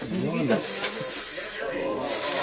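Long, loud breathy hiss from a cobra at a rescue shelter in Pagbilao, Quezon, coming in two sustained bursts with a short pause between, while a person talks nearby at the start.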